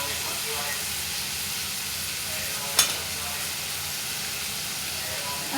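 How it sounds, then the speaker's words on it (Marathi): Radish pods fry in oil in a pan with an even, close sizzle and hiss throughout, broken once by a single sharp click midway. "शेंगा तेलात चांगल्या भाजून घ्यायच्या आहेत"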